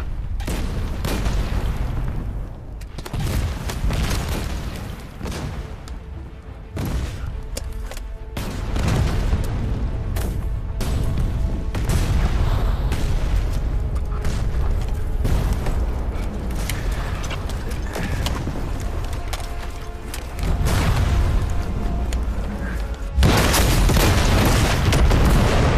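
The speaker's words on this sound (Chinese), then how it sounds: "炮击好像停了" Artillery shelling in a war drama, heavy booms and rumbling explosions landing repeatedly over a sustained barrage, with dense crashing debris and a louder burst near the end.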